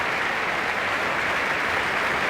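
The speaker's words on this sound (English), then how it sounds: "get a bit of a hand here from the crowd at the Gabba" Steady crowd applause at the Gabba cricket ground during a 1989 Pakistan versus West Indies match, a dense, even wash of clapping from a large stadium audience that holds throughout without any voices.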